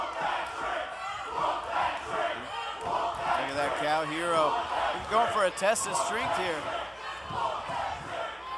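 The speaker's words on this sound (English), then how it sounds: "They're saying whoop that trick, right?" Wrestling crowd at an OVW live event chanting in unison, a loud rhythmic chorus of many voices with cheers and stomping, under a commentator talking over it.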